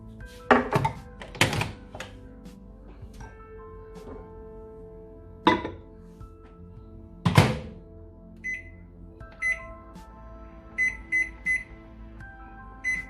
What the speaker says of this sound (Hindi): इसको अभी मैं माइक्रोवेव में डालने वाली हूँ 5 मिनट के लिए